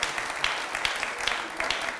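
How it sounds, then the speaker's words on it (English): Audience applause for debaters at a televised youth debate, a steady patter of hand claps with a few sharper bursts, moderately near and sustained across the whole stretch. "Ladies and gentlemen, a round of applause for our debaters."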